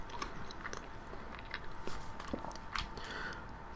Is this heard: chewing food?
yes